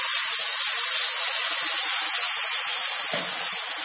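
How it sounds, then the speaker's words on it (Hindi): Ground tomato and onion paste hits a hot pan for a mung dal bari curry, giving a loud, steady sizzling hiss that holds for several seconds and gets a fresh burst near the end. "ये जो हमने टमाटर को और प्याज को पीसा है उसे डाल देंगे"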